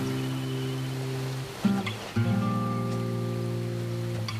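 Steady broadband rain hiss on a wild grassland habitat where lions hunt, with a continuous low drone and a couple of brief thuds partway through.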